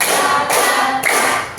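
A classroom of students claps together in a counted rhythm, with about three sharp, loud bursts of clapping spaced roughly half a second apart.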